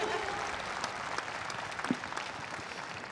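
Audience applause for a translator at a gaming convention conference, a steady wash of clapping lasting the whole moment at moderate level, with a few sharper claps standing out.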